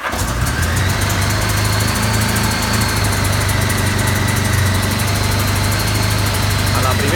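A 1977 Honda GL 1000 motorcycle engine idles steadily and loudly up close, a constant low rumble with a droning hum throughout.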